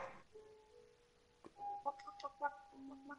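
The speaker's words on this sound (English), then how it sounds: "this chicken is annoying me so much" A chicken in a video game clucks in a few short, quiet bursts against a near-silent background.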